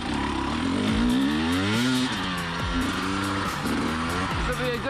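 A 2020 KTM 300xc TPI two-stroke dirt bike engine on a single-track trail ride, revving up and down in repeated loud, close bursts with rising and falling pitch as the rider works the throttle.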